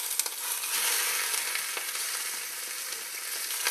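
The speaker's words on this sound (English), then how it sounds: "we are going to brown some ground beef" Ground beef browning in olive oil in a pan for shepherd's pie gives a steady, close hiss of sizzling fat, with faint crackles and light pops throughout and no voices.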